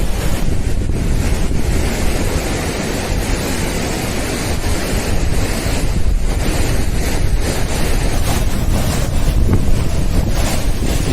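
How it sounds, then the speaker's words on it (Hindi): Rishi Ganga waterfall in the mountains near Badrinath, its spray blown about by wind: a loud, steady, broadband roar of rushing water and wind buffeting the microphone throughout, with no voices. "ये देखिए गजब का वाटरफॉल,"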